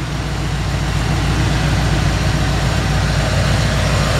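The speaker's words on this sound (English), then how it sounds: "Just wanted to let you hear that engine run." A 1953 Ford F-100 pickup with electric fuel pump idles steadily and close, a low, even rumble with a constant throb that holds unchanged from start to finish, no voices over it.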